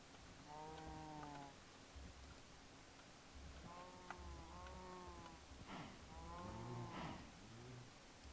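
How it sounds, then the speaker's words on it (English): Blocky Minecraft cows in the Stoneblock 2 modpack moo in three drawn-out, wavering calls, with short pauses between them, over a low steady background. "So that's our obsidian cows."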